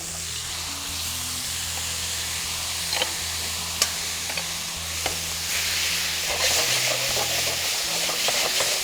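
Lamb mince frying in a hot pan of peanut oil for a Thai-marinated chilli dish, a steady close sizzle and hiss with a few sharp crackles and spatters, alongside a low humming tone and no talking.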